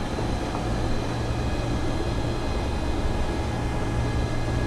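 Boeing 727 engines spool toward takeoff thrust in a Purdue flight simulator, a loud, steady broadband roar with a faint high whine and no talk.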